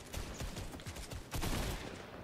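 Dense bursts of gunfire in a Fortnite match, rapid overlapping shots cracking throughout at close range, with a heavier volley swelling partway through; no talk.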